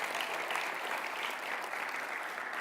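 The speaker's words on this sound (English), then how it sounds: "So let's give yourself a round of applause." A seated audience gives a steady round of applause at a talk on self-healing, dense and even throughout at moderate loudness with no voices over it.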